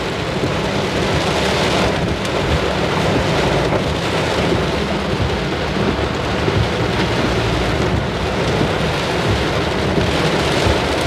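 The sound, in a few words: heavy rain and thunder during a typhoon at night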